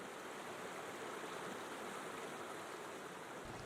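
Steady flowing water, like a stream on the Colorado Plateau, runs continuously as an even, close rush with no voices over it.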